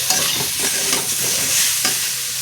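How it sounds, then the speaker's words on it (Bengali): Chili and ginger paste sautéing in a pan for a shrimp and elephant-foot yam curry, a loud, dense sizzle close up with busy scraping of a spatula stirring throughout, no voices. "এখন আমি লঙ্কা আর আদা বাটাটা দিয়ে দেবো, দিয়ে এখন আমি সুন্দর করে কষিয়ে নিতে হবে"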